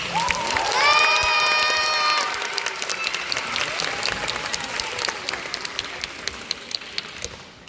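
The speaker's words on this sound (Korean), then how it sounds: "우리 선덕여왕의 용기에 뜨거운 응원에 박수를 부탁드리겠습니다" Applause and cheering from a musical theater audience during a Korean history show about Queen Seondeok, with high children's shouts rising over the clapping at first, then steady applause that gradually thins out.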